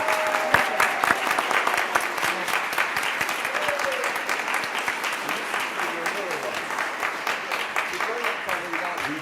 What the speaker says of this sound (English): put our hands together in appreciation for our new members